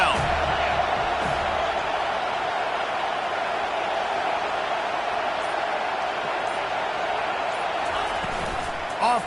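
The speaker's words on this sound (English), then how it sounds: "Decibels rising as the crowd gets behind this defense on third down." Stadium crowd roaring during a third-down defensive stand in a college football video game, Florida at Florida State, a dense sustained wall of noise holding steady throughout.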